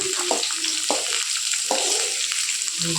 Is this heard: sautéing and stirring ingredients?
yes